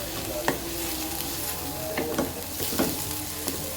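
Fenugreek leaves frying in a spice masala for aloo methi, a steady close sizzle with a few sharp spoon scrapes against the pan spaced across the stretch, no voices.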